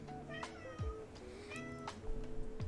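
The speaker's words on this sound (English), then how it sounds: "Hi, Kitty." A house cat meows several times in a row, clear and close, each call rising and falling, over a quiet room with no talking.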